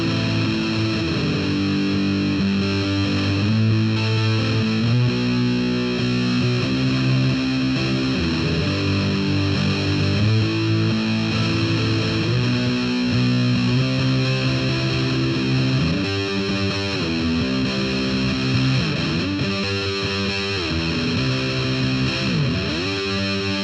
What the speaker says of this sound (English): But this Muffaletta by JHS is awesome because it actually provides all the variations of that Big Muff tone.